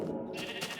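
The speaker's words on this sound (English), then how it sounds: "Pink sheep" A single brief, close bleat from a pink sheep in a video game, nasal and wavering.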